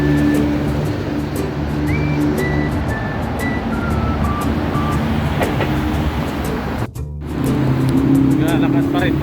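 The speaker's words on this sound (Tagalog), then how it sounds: "Walang katapusang sasakyan." Cars stream along EDSA at midnight in a loud, continuous roar of passing traffic with engine hum and tonal whines, heard close by under some background voices.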